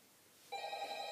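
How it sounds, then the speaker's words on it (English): A telephone bell starts ringing about halfway through, a steady, fairly loud tonal ring that continues to the end after a near-silent start in a dark, quiet LEGO setting. "Oh, it's a phone."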